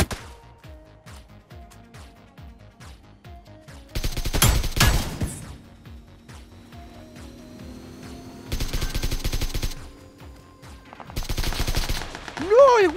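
Gunfire in the mobile video game PUBG New State, several loud bursts of rapid automatic fire separated by quieter stretches of ticking footsteps and faint game tones.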